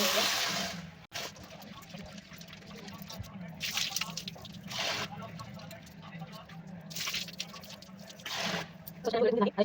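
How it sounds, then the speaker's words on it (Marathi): Water sloshes and drips in a small bowl as lentils are swirled and rinsed, with splashy bursts recurring over a steady background. "तर आता वाटीमध्ये मी घेतलं आहे त्याला स्वच्छ धुवून"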